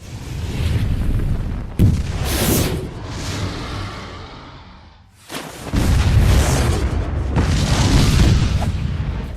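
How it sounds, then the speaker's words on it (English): Propane tank explosion in a Freddy vs. Jason film scene as Freddy and Jason are launched into a lake: a sharp boom near two seconds, then another heavy blast around five seconds rolling into a loud, sustained roaring rumble. "taken out by a mundane propane tank explosion"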